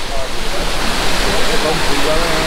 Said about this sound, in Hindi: So this is Neer waterfall.